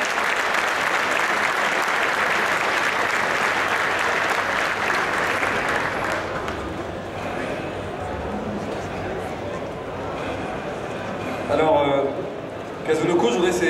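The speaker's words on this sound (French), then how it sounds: "Merci, on peut l'applaudir, Jackal, le numéro 2 du tournoi." Enthusiastic applause from a crowd at a Guilty Gear Xrd tournament final, loud and sustained for several seconds, then thinning out to scattered claps as voices come in.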